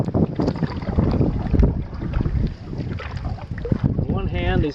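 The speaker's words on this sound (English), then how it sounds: "these little lakes like this, long narrow lakes, form a wind tunnel" Wind gusting across a long, narrow lake on a solo canoe trip, heavy roaring buffeting against the microphone with irregular surges, loud and close throughout.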